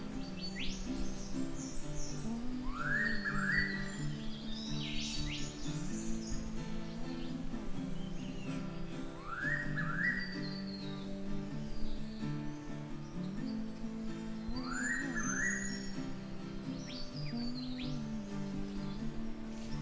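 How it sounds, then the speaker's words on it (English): An eastern whipbird calls in the Eungella rainforest, its rising whip-crack notes repeating about every six seconds over a steady bed of other birds and insect drone. "It's an eastern whipbird."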